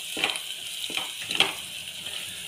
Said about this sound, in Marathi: हे छान तेलामध्ये छान परतून घ्यायचे मसाले